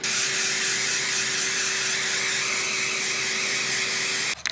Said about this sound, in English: So I'm gonna start off with this and just spray my wig